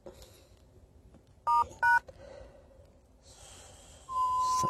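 Keypad dialing tones from an LG H910 AT&T smartphone: two short, loud dual-tone beeps in quick succession, then a longer steady tone near the end, over faint room noise.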